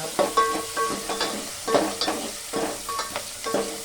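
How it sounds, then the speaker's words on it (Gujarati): Tomatoes, chillies, curry leaves and ginger-garlic paste being stirred in a pan on low flame, a soft sizzle running under repeated close scraping strokes of a spoon, no speech. "ધીમા ગેસ ઉપર ચલાવો."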